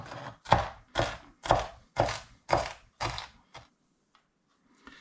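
Onion and other vegetables chopped in a hand-operated food chopper: seven crisp, rhythmic chopping thunks at close range with a mechanical ratcheting edge, then a near-silent pause with a few faint clicks.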